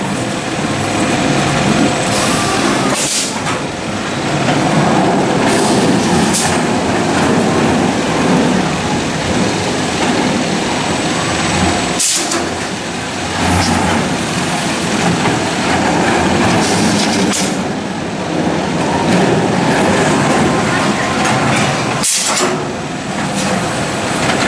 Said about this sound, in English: The choo-choo train making its whole circuit.